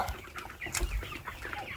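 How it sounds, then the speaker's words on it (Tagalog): Several Rhode Island chickens cluck and murmur close by, with soft overlapping calls and a few rustling movements. "pagpakaon nato sa atong mga manok nga Rhode Island"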